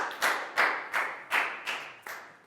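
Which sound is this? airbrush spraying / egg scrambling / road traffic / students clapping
students clapping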